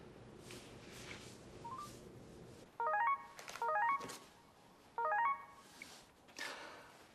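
A telephone is dialed in a quiet room, with three short clusters of crisp keypad tones tapped in quick succession and brief pauses between them.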